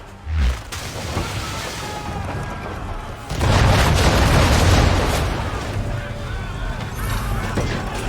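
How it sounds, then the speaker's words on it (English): Cannon fire from a ship in Assassin's Creed III: a sharp boom, then a heavy, sustained rumbling blast that roars loudly for a couple of seconds before settling into a lingering low roar. "Why is he shooting at us?"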